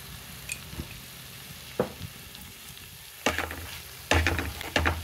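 Prawns seasoned with chili powder and salt fry in a pan with onions, giving a soft, steady sizzle with occasional stirring clatter that grows louder and busier toward the end.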